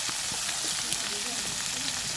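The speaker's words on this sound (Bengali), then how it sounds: "এগুলো একটু নেড়ে চেড়ে সব মিশিয়ে ভেজে নেব" Okra with onion frying in a pan, a dense steady sizzle and crackle close up with faint stirring sounds, no voices.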